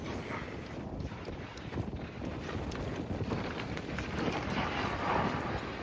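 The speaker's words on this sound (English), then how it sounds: "It's pretty windy out today." Steady, heavy wind buffeting the microphone at Texas Motor Speedway, a constant broadband roar with gusty swells and no voices.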